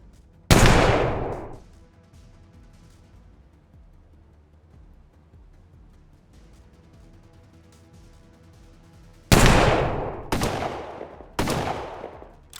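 Gunfire in the turn-based game Colony Ship, one sharp, loud shot with a long ringing decay, a quiet stretch, then three close blasts in quick succession, each fading before the next.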